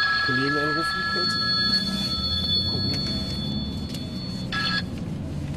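A phone call rings out from inside a moving car while a man calls a colleague, the steady electronic ringing tone repeating beneath road rumble and some speech.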